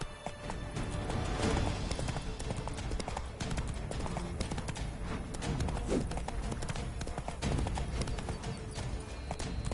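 Horse hooves clip-clop steadily at a brisk ride in the video game The Witcher 3, a dense, continuous rhythm of hoofbeats up close over game ambience.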